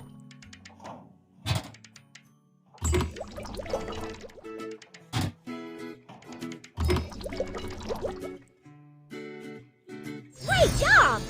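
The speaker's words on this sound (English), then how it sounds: "Pour engine fluid by color into tanks." Engine fluid glugs and pours into tanks in a children's truck and excavator repair puzzle game, bursts of liquid filling sounds separated by short thunks and cheerful tones, loud and close.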